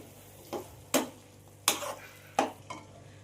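Boiled chickpeas and beans stirred into spices for undhiyu, with four or five sharp spoon scrapes against the pan over a faint sizzle, close up and no talk.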